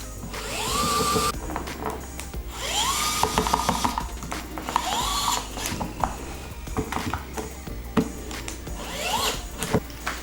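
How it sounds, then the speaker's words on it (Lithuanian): A MINI ES121 smart electric screwdriver unscrews tiny screws from a small camera, whirring up in several short rising bursts separated by clicks and handling noise, close and clear with no speech. "Pamėginkim šios kameros varžtelius dar atsukti."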